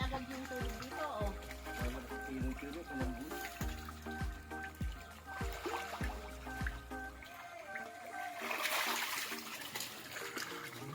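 Water drains out of a catfish pond at harvest as a steady trickling, gurgling flow under a low, irregular thumping, followed by a brighter rush of splashing water.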